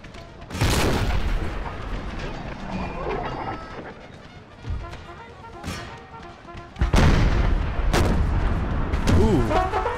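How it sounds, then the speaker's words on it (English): Artillery firing canister shot in a Civil War mod of Empire: Total War. Several heavy booms land loud and close, one early and a tight cluster near the end, with quieter rumbling and scattered musketry between them. "that canister shot over my own men and through my own men right there did break that cavalry"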